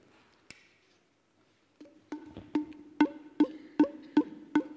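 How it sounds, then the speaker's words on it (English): A series of sharp taps sets off a hollow, ringing tone that sustains briefly after each strike, repeating at a steady pace. "That's the sound of the resonance of this."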